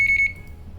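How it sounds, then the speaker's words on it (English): A Magellan scale gives a short electronic beep, three quick pulses in a crisp high tone just after its calibration button is pressed, clear and close, followed by faint room noise. "You'll hear the beep"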